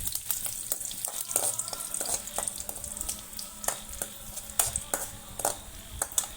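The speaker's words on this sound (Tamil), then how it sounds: "பட்டை நல்லா தாளிக்கிறோம் தாளிக்கிறோம்" Cinnamon sticks tempering in hot oil in a pan for a South Indian wedding-style semiya kichadi, crackling and sizzling with sharp irregular pops and stirring scrapes, close and continuous with no talk.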